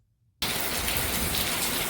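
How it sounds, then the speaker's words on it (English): Torrential rain pours in Playa del Carmen during the rainy season, beginning abruptly after a moment of near silence and then roaring as a steady, loud, dense wash of rainfall. "it's been raining. And I mean, torrential downpour"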